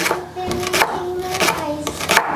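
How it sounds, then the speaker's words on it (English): A knife chops fresh leeks on a kitchen board, a few sharp, close knocks spaced irregularly while a voice talks over them. "just chopping these leeks, which are very, very mild, making my eyes burn"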